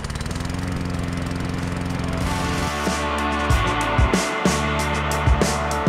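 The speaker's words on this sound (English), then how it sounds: "It's lawnmower time." A lawn mower engine runs steadily and loudly up close, its drone shifting pitch partway through with a few brief clattering knocks.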